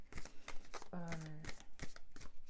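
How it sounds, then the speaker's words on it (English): Tarot cards being shuffled by hand before a reading, a run of quick crisp riffling snaps close by, with a short voiced murmur midway. "I was actually in the process of shuffling for your reading"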